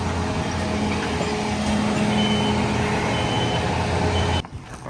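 Trucks backing up at a concrete job while being loaded, a loud steady reversing beep sounding over a rumbling diesel engine, ending abruptly near the close.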